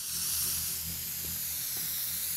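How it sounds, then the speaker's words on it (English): Spray can hissing out a mark in the game Teardown, a steady airy hiss with a low hum under it, no talking. "Let me mark it with my spray can."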